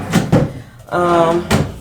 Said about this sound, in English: the drawers come out. I do have it on casters, which helps. The drawers come out fully.